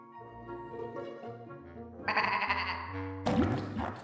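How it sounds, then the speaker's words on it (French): Sheep bleating in the video game Escape Plan, a couple of wavering bleats rising over a steady low musical backdrop, heard alone with no voices. "Mouton."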